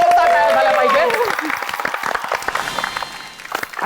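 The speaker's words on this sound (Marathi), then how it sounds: "एकदा जोरदार टाळ्या झाल्या पाहिजे" Studio audience on a Marathi television game show applauds the winning team. A brief tonal voice or music opens, then loud, continuous clapping fills the rest and thins slightly toward the end.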